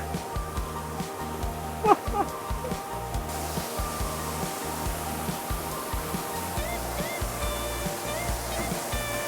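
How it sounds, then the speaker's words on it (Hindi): Water from Sirki Waterfall in Arunachal Pradesh crashing over rocks, a steady close rushing roar that continues without a break through the whole stretch. "चट्टानों से जब पानी टकराते टकराते आगे बढ़ रहा है ना, देखने को अच्छा लग रहा है।"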